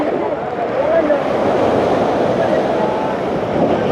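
Heavy monsoon sea waves roar steadily at Patenga beach in Chattogram, a loud continuous wash of surf with wind and faint distant voices.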